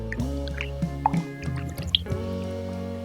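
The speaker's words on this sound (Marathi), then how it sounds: "आता देठ आपल्याला स्वच्छ धुवून घ्यायचे आहे" Taro leaf stems are rinsed in water, giving soft close drips, squishes and small splashes over a steady low hum in the background.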